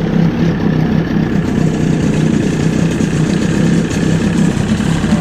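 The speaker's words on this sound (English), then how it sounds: "So I'm going to fire it up and" An Evinrude 20/25 horsepower outboard motor runs steadily at idle, a loud, continuous low rumble with a fast rhythmic chug throughout and no talk.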